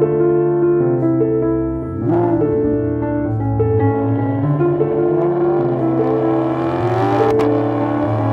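A 2019 Maserati GranTurismo's engine revs up and down repeatedly at close range. Its strong harmonic tone climbs and falls in pitch throughout, with a sharp surge near the end.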